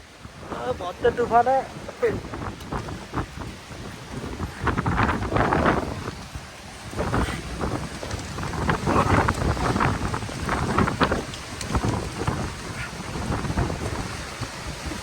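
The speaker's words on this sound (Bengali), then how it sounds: "জীবনে এরকম তুফান দেখি রে বাপ রে জীবনে দেখি না এরকম তুফান ভয়ানক তুফান" A violent windstorm in Vrindavan roars in loud, surging gusts, with rough buffeting and a hint of rain throughout.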